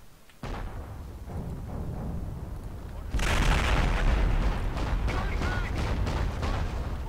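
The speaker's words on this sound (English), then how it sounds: "They're hitting me with mortar fire, yeah they are." Mortar fire in the Company of Heroes strategy game, heard as a low rumbling battlefield din with muffled booms that thickens into a louder, sustained barrage midway through.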